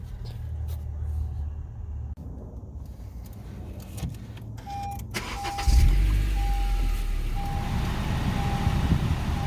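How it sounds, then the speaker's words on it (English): In a car during a cabin air filter replacement, keys jangle and a chime sounds before the engine cranks and catches, settling into a steady low idle with blower air. "So now we'll start the car and we'll see the difference in the airflow."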